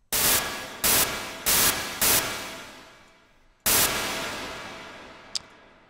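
FM-synthesized noise in FL Studio run through heavy echo: four loud bursts of harsh hiss in quick succession, each trailing a long fading reverb tail, then a fifth burst decaying slowly with a small click near the end.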